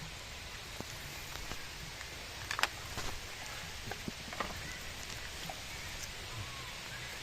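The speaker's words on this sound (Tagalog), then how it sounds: "Ay, lumakas na yung ulan." Heavy rain pours outdoors on a hiking trail on Mt. Makiling as a steady, dense hiss, with a few sharper drip-like taps and faint knocks scattered through it.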